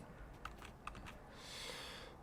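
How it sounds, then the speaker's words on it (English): Computer keyboard keys being pressed, a few soft separate clicks spaced apart, faint and close, with a quiet hiss underneath. "I was hitting the Q button."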